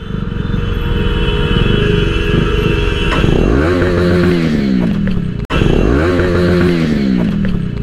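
A KTM Duke 250 motorcycle's engine drones loud and steady while riding, its pitch sweeping up and down through gear changes, with a sudden brief dropout before the revving resumes.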